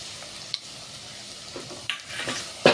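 A roasted paste of onion, coconut, peanuts and sesame goes into hot oil for a stuffed eggplant masala and sizzles quietly, with a few sharp clicks and scrapes of stirring. A louder splash of frying comes at the very end.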